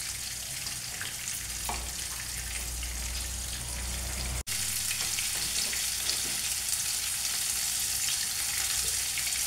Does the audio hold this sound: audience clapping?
no